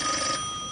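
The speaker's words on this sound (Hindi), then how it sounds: "यार ये इस वक्त किसका फोन आ गया?" An old landline telephone bell rings indoors in a classic Pakistani TV drama, a single brief, moderately loud ringing burst that quickly fades.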